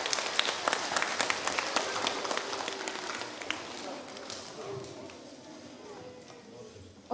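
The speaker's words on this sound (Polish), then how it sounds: "ale wielkie oklaski" An audience at a Lenten retreat gathering claps loudly in a burst of applause that gradually thins and fades, sharp individual claps standing out as it dies down.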